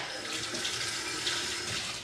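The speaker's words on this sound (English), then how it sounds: "so give them a bit of a wash." Running tap water splashes steadily over fingers slimy from handling food at a kitchen sink, a close, continuous rush with no talking.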